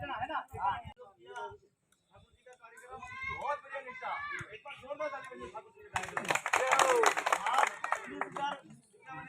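A crowd clapping at a community gathering of the Od samaj in Mewar, a dense burst of hand claps breaking out over someone speaking into a microphone and continuing under his voice.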